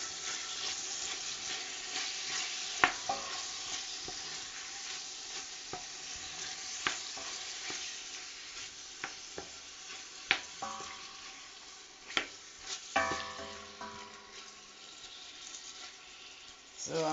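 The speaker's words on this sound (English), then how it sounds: "I'm literally waiting for that to be browned on all sides so the meat is going to get sealed" Meat browns in a stew pot for an easy vegetable stew, a faint steady sizzle broken by occasional stirring clanks and scrapes, with a voice talking in between.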